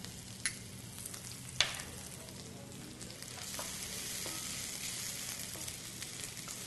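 Shallots, slivered garlic and crushed red chilies sizzle gently in butter, a steady soft frying hiss with a couple of sharp crackles and pops, close and unaccompanied by talk.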